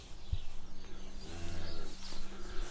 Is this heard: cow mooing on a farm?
yes